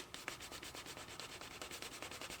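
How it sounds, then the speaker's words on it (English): Quick rhythmic rubbing strokes of canvas burnishing the edge of a handmade leather wallet, a dry scratchy back-and-forth friction sound, close and fairly faint, with no talking. "I also like to finish the burnishing with a little bit of canvas."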